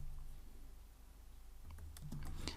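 Keystrokes on a computer keyboard while typing Kotlin code, a quiet run of light clicks that grows busier toward the end over low room hum.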